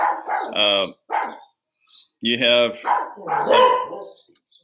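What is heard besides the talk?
dogs barking in the backyard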